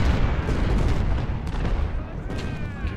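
Deep, rumbling booms from multiple artillery units in a Civil War strategy video game, the Battle of Antietam, rolling together into a continuous low roar of distant cannon fire.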